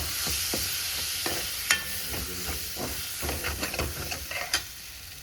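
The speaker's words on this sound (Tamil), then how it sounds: "அதையும் சேர்த்து தக்காளி நல்லா வதக்கி கொடுக்கணுங்க" Chopped tomato sautés in an oiled pan for paneer bhurji, a steady soft sizzle broken by scraping, knocking strokes of a spoon stirring against the pan, close and moderately loud with no talking.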